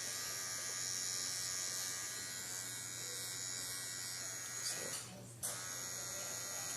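A Solong rotary pen tattoo machine, model EM128-1 or EM108-1, hums with a steady, close electric buzz that holds throughout, briefly interrupted by a short rustle near the end.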